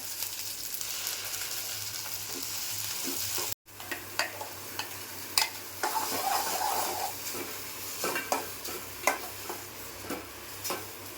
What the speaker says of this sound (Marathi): आणि कढीपत्ता टाकला आहे फोडणीला आता भेंडी टाकली फोडली जरा परतून घ्यायची